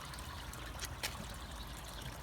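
Dirty pond water being pumped into a koi pond filter trickles and splashes in a steady, faint stream, close by and continuous, with no voices.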